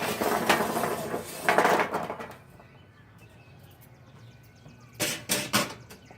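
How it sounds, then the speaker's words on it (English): Hot charcoal coals are dumped out of a chimney onto a Camp Chef cook table, giving a rough rattling and scraping rush at the start, then a quiet pause and a few sharp clinking knocks near the end. "I got my coals going pretty good, so let's get these dumped out"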